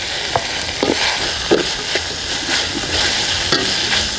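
Chopped onions tossed into beef frying in a pan for Peruvian lomo saltado, giving a steady sizzle broken by several soft stirring scrapes and clatters, close and alone with no talk.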